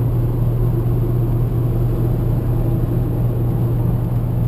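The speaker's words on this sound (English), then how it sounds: "You can hear the 5-cylinder just faintly in the background." Inside a Volvo XC70 cruising at highway speed, its five-cylinder engine turning around 2,800 rpm makes a faint, steady low drone beneath continuous road and wind rumble.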